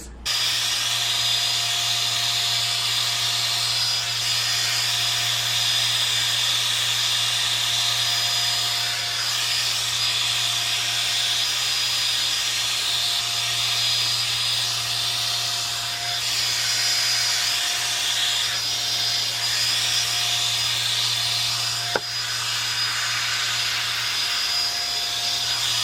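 A Revlon One Step hair dryer brush blows hair dry at home with a loud, steady whir and a constant low hum that runs unbroken, broken only by one brief click near the end.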